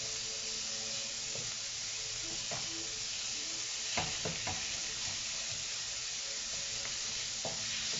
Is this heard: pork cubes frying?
yes